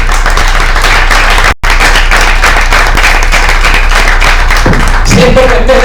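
A church congregation claps steadily and fairly loudly, with a brief dropout partway through and a voice rising near the end.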